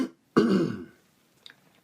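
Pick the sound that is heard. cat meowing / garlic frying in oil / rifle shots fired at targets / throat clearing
throat clearing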